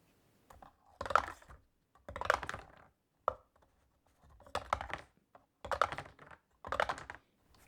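Dice are re-rolled in the Wingspan board game, in several short bursts of clattering and rattling, close and quiet, with pauses between rolls.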